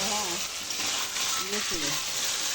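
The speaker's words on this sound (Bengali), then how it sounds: "আগে সবজিগুলো ভেজে নিচ্ছে" Mixed vegetables for Bengali shukto fry in a pan with a dense, steady sizzle close by, and a voice speaks faintly underneath.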